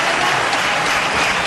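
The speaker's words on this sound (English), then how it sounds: "Yes, he deserves the applause." A cricket stadium crowd at a Pakistan versus India match applauds a batsman's half-century, a loud, continuous roar of clapping from a large, distant crowd.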